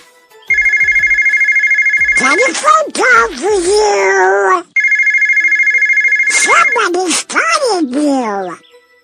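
A cartoon fox's phone rings with a bright electronic ringtone in two bursts, each followed by exaggerated animated voices talking over and after it.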